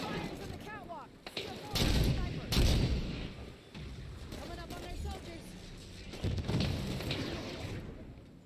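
Gunfire crackles in a Halo 5: Guardians battle against Prometheans, with heavy shots and booming impacts in repeated bursts under almost constant voice chatter.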